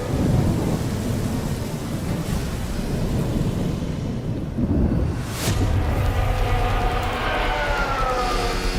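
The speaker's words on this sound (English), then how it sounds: "Rain starting to pick up now." Steady heavy rain and rumbling thunder wash over a Formula 1 race in wet conditions, a loud continuous roar with deep low rumbles and a brief sharp crack midway.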